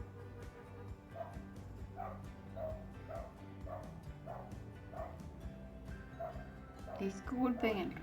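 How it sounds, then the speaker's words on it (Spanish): Small dogs bark and yip repeatedly in the background of a room during home crochet work, a series of moderate, evenly spaced barks followed by a louder burst of yapping at the end. "Disculpen el ruido de los perros."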